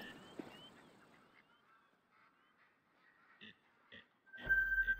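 A wild turkey calls in theHunter: Call of the Wild in the New England Mountains: a few short, faint, honking gobble notes over quiet outdoor ambience, followed by a brief louder burst.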